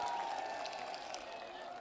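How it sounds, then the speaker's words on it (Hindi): Crowd applause welcoming Hemaram ji at a farmers' rally in Parbatsar, a steady, dense wash of clapping held at an even, fairly distant level with a faint sustained tone running beneath. "तो अब सब जोरदार तालियां बजाकर हेमाराम जी का स्वागत करो"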